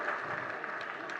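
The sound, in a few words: audience clapping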